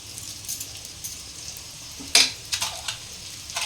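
Spoonful of ghee going into a hot pan while semolina pulao cooks, a low sizzle and hiss with a sharp metal spoon clink, and several soft scrapes and taps that follow.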